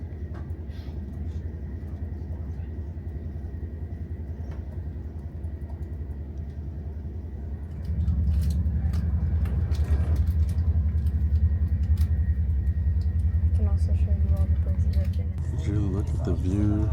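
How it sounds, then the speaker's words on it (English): Interior of a moving train on the ride to Sargans, Switzerland: steady low rumble and rolling drone throughout, growing louder and heavier about halfway, with faint voices and brief sounds over it near the end. "Train ride should be just under an hour to Sargans"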